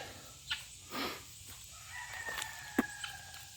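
Backyard chickens from a neighbouring flock cluck and crow in short, scattered bursts over faint outdoor ambience, a few calls close and sharp, others softer and farther off, with no talking.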